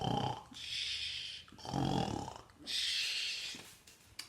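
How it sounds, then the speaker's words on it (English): Slow, rhythmic snoring, about three drawn-out snores with brief pauses between, close and fairly quiet. "you can see the house there and everyone's snoring, so they're fast asleep"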